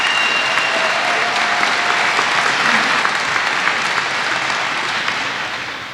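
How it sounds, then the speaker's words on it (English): An audience at a youth academy commencement ceremony gives a big, sustained round of applause, dense and loud, with scattered sharper claps, easing slightly as it fades toward the end. "give a big round of applause"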